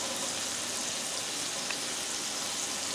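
Smashburger patties and onions fry on a hot griddle, giving a steady, even sizzle that holds at a moderate, constant level throughout with no talk.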